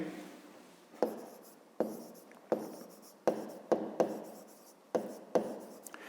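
Pen strokes on paper while solving a fifth-grade math exercise on area in square metres: a run of close, soft scratchy writing strokes, each beginning with a small tap, repeating in short bursts with brief pauses between.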